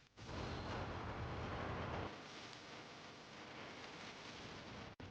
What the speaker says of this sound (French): Explosion à Baalbek, munitions